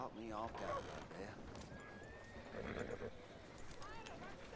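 A horse in the Red Dead Redemption II video game whinnies loudly near the start, followed by hoof clip-clops and quieter snorts, with voices talking over the game sound.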